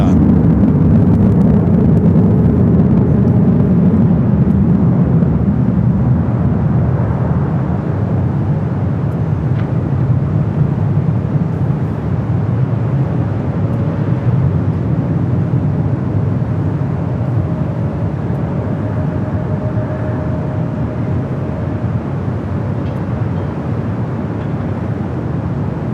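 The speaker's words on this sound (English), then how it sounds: "A321 heading to JFK, rolling down to 24 left." An Airbus A321 bound for JFK rolls down runway 24 left at Los Angeles International Airport, a loud, steady broadband engine roar that holds throughout with a faint whine rising partway through.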